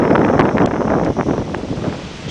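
Strong wind roars steadily across the microphone at a paragliding launch site in Alcudia, Mallorca, a dense, loud, unbroken rush with gusty swells and no voices.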